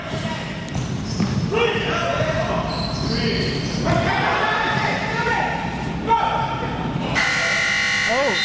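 A loud basketball game buzzer sounds over crowd noise and lively commentary in a busy gym, with balls bouncing and sneakers squeaking.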